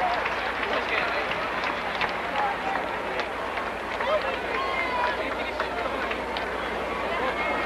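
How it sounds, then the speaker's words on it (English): A crowd in the stands at a UAAP college basketball finals game, UST versus Adamson, applauding with sustained clapping and crowd noise that stays steady and moderately loud throughout, voices mixed in. "Let's give him a round of applause."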